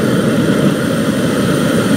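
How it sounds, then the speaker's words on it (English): A homemade aluminum and brass furnace fires its diesel burner, giving a loud, steady, continuous roar with no break and no voices. "there it goes, now it's burning diesel."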